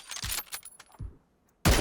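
Rapid bursts of game gunfire, a quick cluster of sharp shots, a short silence, then another loud burst at the end.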